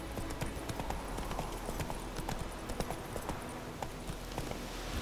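Steady clip-clop of horse hooves on a hard surface in The Witcher 3: Wild Hunt, regular and fairly close, with a continuous low background hum throughout.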